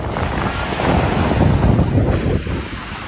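Ocean surf at Miami's South Beach rolls in as a loud, broad rush that swells in the middle and eases off, mixed with heavy wind buffeting the microphone.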